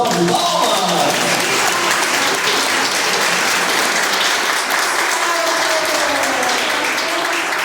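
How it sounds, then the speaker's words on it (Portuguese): A large audience applauds to welcome a speaker, dense sustained clapping that fills the room loudly and evenly throughout. "Receba uma salva de palmas!"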